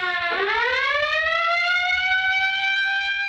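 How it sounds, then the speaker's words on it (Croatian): A loud civil defence general danger siren wails, rising sharply in pitch and then holding a steady, piercing tone, sounding alone without any voices. "Sirena opće opasnosti tako će u subotu u 22 sata označiti početak velike akcije"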